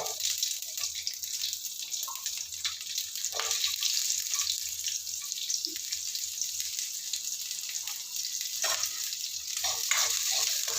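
Continuous hissing sizzle of mustard seeds and small shallots frying in hot oil for sambar, a steady bright crackle with a few soft knocks, close by, no talk.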